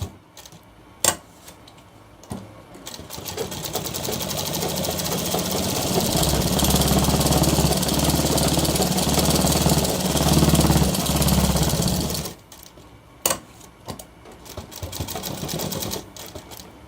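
Sewing machine stitching a shirt collar band, a rapid mechanical whirring run of about nine seconds, loud and close, with a few sharp clicks and handling knocks before and after the stitching burst.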